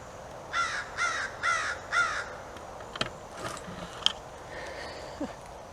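Four loud caws from a crow in quick succession, fairly close, followed by scattered quieter bird calls and small clicks in a forest.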